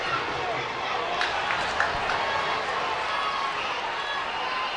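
Ice hockey arena crowd at a Nottingham Panthers at Sheffield Steelers EIHL game, a broad steady roar of many voices in a large rink with a commentator talking over it.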